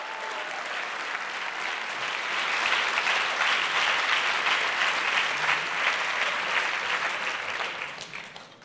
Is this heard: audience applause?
yes